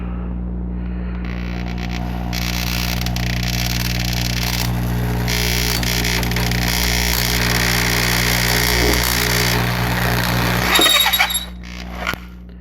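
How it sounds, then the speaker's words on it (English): A power drill grinds steadily while boring a half-inch hole for a magnet in a quarter-scale Thor build, a close, sustained whine that holds for about ten seconds before cutting off abruptly. "So just the drill bit kind of pulls itself in"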